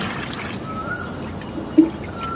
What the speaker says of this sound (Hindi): अब इसमें हमें 4 लीटर पानी मिलाना है।